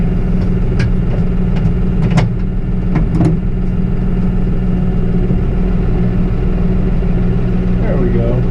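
A Farmall 55 tractor engine running at a steady close idle, a loud continuous low drone with a few clanks and knocks early on, while someone talks over it.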